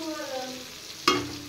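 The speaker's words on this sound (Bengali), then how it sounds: "এবার পেঁপেগুলো একটু ভালো করে ভেজে নেব" Papaya pieces frying with turmeric and salt in a pan for a country-chicken curry with potatoes, a soft steady sizzle capped by one sharp spatula clink near the end, close and brief.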